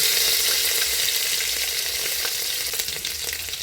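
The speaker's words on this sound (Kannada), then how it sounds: "ಅವು ಎರಡು ಚಟಪಟ ಅನ್ಬೇಕಾದ್ರೆ ಉಳ್ಳಾಗಡ್ಡೆ ಹೆಚ್ಚಿ ಜಜ್ಜಿಟ ಇವನ್ನ ಹಾಕ್ತೀನಿ" Mustard seeds, cumin and crushed onion sizzle steadily in hot oil for a North Karnataka coconut-milk sambar, a dense close crackle with scattered pops and no talk.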